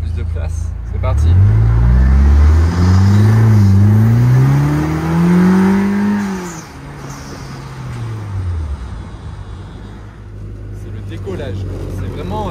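A three-wheeled car accelerates hard through manual gears, its engine rising and dropping in pitch with each shift, loud and close, then settling into a steady cruise as people talk over it.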